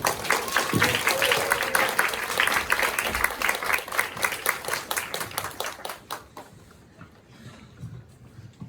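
A church young adults' Sunday service congregation bursts into loud, sustained applause to welcome the preacher, dense clapping that thins and fades toward the end.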